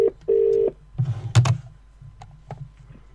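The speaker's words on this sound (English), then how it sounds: "we're going to phone up Sandy Adams, and hopefully Sandy's going to answer the phone" Short telephone beeps and a held call tone ring out on a phone line at the start of a call, followed by softer clicks, rustles and faint line noise, with no one speaking.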